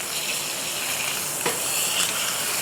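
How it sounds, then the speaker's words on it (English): An Angus ribeye steak sears in cast iron cookware, a close, steady broadband sizzle with a brief crackle partway through. "We'll sear that edge a little bit."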